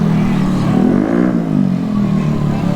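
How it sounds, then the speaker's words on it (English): Noisy motorcycles and other traffic on King Street in Honolulu's Kapālama and Kalihi neighborhoods, a loud, steady engine drone swelling as vehicles pass close by. "And these motorcycles, they are noisy."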